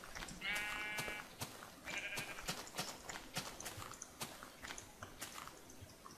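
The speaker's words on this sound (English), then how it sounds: "Found a sheep." Sheep bleating in the Minecraft video game, two short wavering calls near the start over a busy background of clicks and game noise, with no talk.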